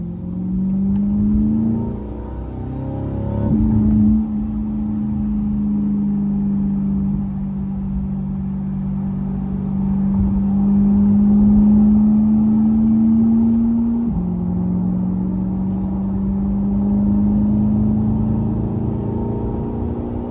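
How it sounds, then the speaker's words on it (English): A 2021 Chevrolet Corvette C8 accelerates onto an interstate, its engine droning loudly and steadily from inside the cabin, pitch climbing through gears with a few shift drops, no talking. "We're about to hop on the interstate, man, and give her a little bit of gas and see what she talking about on that top end speed"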